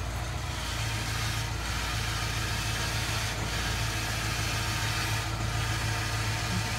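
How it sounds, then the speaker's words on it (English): The power steering pump of a V8 car runs with a continuous, steady mechanical whine and engine hum that stays at an even, fairly loud level throughout, with no talking. "Listen to this power steering pump."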